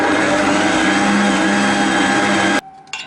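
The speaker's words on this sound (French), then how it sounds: "On met nos 3 œufs et on va mélanger tout ça en première vitesse pendant 5 minutes" An electric stand mixer churns brioche dough with three eggs at first speed, a loud continuous whirring drone that cuts off abruptly near the end.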